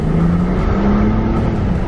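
BMW 535i accelerating hard at full throttle, a loud, close engine roar with a rising tone over a couple of seconds and no talk.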